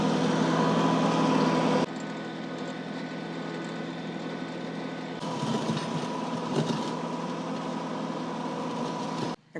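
A compact tractor with a loader bucket grades a gravel driveway, its engine droning steadily with a loud opening stretch, then a quieter steady run and a rougher scraping section before it cuts off near the end.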